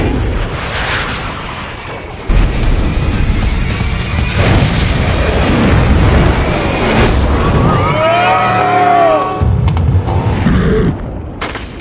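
A film explosion blasts near a car racing away at high speed, a loud rumbling boom with broadband roar and scattered debris crackle that holds for several seconds, then fades under continuing turbulent noise.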